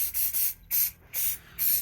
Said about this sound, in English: you're just gonna hit them with some silicone spray